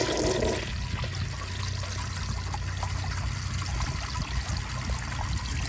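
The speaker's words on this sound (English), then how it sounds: "I'm gonna turn down the pressure a little bit and flush it again and see what happens here." A Universal Rundle Colby urinal flushes at reduced water pressure, giving a steady rushing, trickling stream of water that runs evenly throughout without a strong siphon surge, with no talking.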